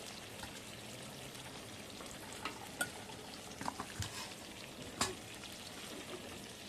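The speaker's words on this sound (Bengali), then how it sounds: "মাছগুলো ভাজা হতে হতে আমি মশলাটা রেডি করে নিই।" Pangas fish frying in hot oil in a covered pan, a steady close sizzle and crackle with a few sharper pops and spits standing out, no voices.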